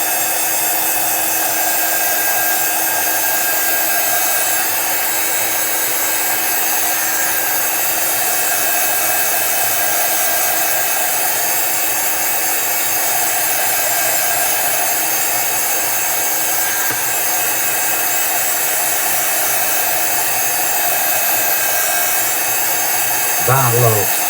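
Heat tool blowing hot air while being wafted over a card, a loud, steady whooshing fan hiss held for over twenty seconds, ending with a brief handling clunk.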